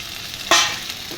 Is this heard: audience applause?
no